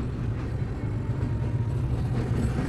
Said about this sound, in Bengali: এটা Malda town new Delhi train.